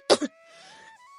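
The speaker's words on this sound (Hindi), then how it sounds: "जोर जोर से खांसी आने लगती है" Two quick, harsh coughs close up, a faint tonal hum in the pause, then another cough bursts out at the end.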